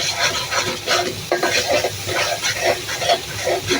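Garam masala and other whole spices fry in a hot pan for a fried prawn dish, giving a steady close sizzle broken by repeated stirring and scraping strokes, with no talking.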